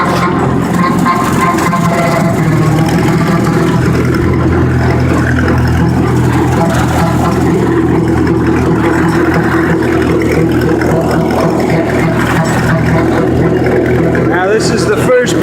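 A tractor engine revs up while driving a PTO-powered brush hog mower, a loud, steady mechanical drone throughout with someone talking over it.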